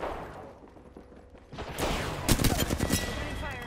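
Rapid bursts of weapon fire in the Apex Legends battle royale on the World's Edge map, loud and dense after a quieter opening, mixed with game effects and voice callouts.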